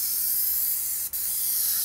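An airless paint sprayer coats house siding, giving a loud, steady, close high-pitched hiss that cuts out for a brief instant before resuming.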